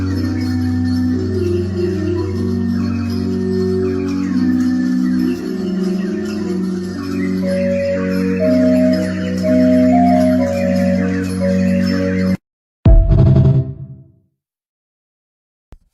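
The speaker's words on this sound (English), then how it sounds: "Pipe organ." A homemade water pipe organ plays sustained, layered tones with shifting chords, close and steady, then stops suddenly and leaves a brief knock and silence.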